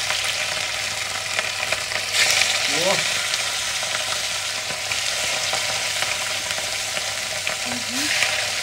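Food dropped into hot oil for plov sets off a dense, steady sizzle that runs throughout, close and loud, with brief voices and a short exclamation over it.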